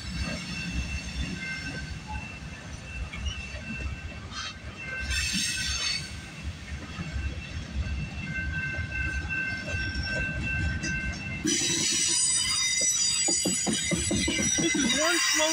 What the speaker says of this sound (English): Slow train we're catching.